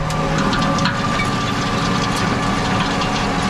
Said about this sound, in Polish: Zakurzę sobie ciągnik